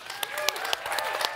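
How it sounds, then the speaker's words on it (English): A conference audience at a CES 2024 Mercedes-Benz presentation breaks into a brief burst of warm applause, sharp scattered claps over a steady crowd wash. "let's give Marcus Schaefer a big, warm round of applause"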